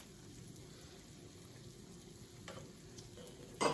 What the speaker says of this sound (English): we'll saute them up just a little bit